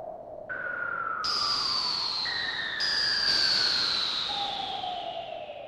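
A synthetic "moving in stereo" sound effect of sweeping electronic tones gliding downward in pitch, overlapping layers entering one after another over a soft hiss, with no voices.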